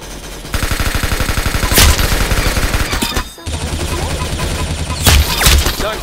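Rapid bursts of automatic gunfire in a video game, loud and close, with a brief pause before another sustained volley.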